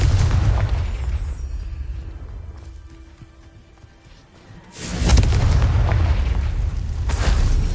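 Confringo spell blasts in the video game Hogwarts Legacy: a loud, rumbling explosion that fades away, then a second heavy boom that keeps roaring with another burst near the end, and no talking.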